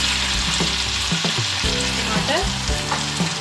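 Garlic and ginger frying in a cup of oil with browned onions, a loud, dense, continuous sizzle close by, with scraping stirs and clinks of the utensil running through it and no talking.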